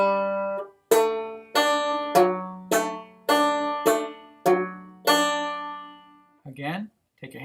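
Plucked chords from Handsome Molly ring out on a stringed instrument, about nine clear, separate strums that each fade, close and unaccompanied, ending with a few softer notes.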